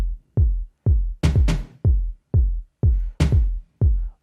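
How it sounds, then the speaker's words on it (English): Afro house drum loop programmed in FL Studio, with punchy kicks and snappy hits with tom accents repeating in a steady two-bar groove, loud and alone. "Drums, everything together, and then they sound like this."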